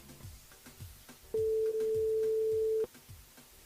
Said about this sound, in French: On appelle Lolita sur le standard.